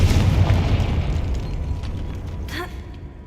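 A Confringo explosion spell bursts in a Harry Potter video game: a loud, booming blast that fades slowly, with a brief whooshing streak late in the decay.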